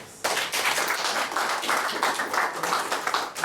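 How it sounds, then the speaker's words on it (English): Lively applause breaks out from an audience at a health minister's district tour event, starting abruptly and continuing as a dense, uneven patter of hands for about three seconds. "So I think they deserve a round of applause."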